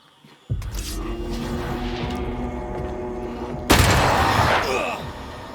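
Gunfire from a corpse enemy in the video game Banishers comes as a sudden loud burst, then a ringing, droning tail and a second heavy blast, both close and harsh.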